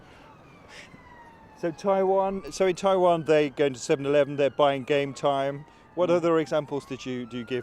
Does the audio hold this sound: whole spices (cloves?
no